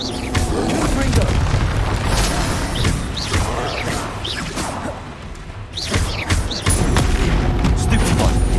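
Confringo explosive spells are cast in the Hogwarts Legacy video game during a spell-heavy duel. They make booming blasts and whooshing bursts over loud combat noise, and voices shout spell names throughout.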